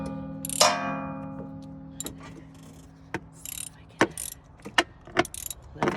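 A ratchet wrench loosens a spark plug on a 2001 Toyota Sequoia V8, giving a quiet metallic clank followed by scattered sharp ticks and clicks close by, with no talking.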